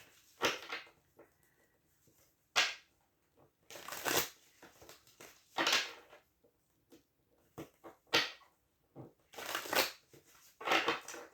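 Tarot cards shuffled in several quick riffling bursts, each a crisp papery flutter, separated by short pauses; close and fairly quiet, with no talking.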